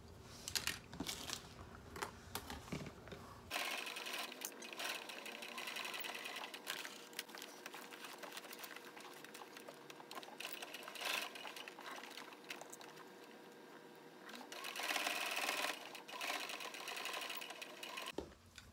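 A sewing machine stitches pleats on a peekaboo tote bag: a brief start, then a steady continuous mechanical whir that runs close and loud for most of the stretch, with slight rises in pace.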